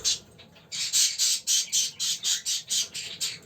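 Caged pet budgies and cockatiels squawk close by, giving a rapid, regular series of shrill calls at nearly even intervals. No one speaks.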